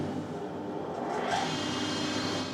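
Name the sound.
iTech 260SS planer thicknesser planing spruce, dust extraction running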